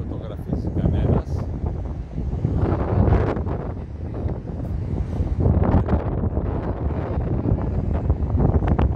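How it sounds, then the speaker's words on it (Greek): Strong wind buffets the microphone in steady, loud gusts, with a low roar filling the whole recording and no clear voices. "Πέσαμε σε μία μέρα πολύ αέρα."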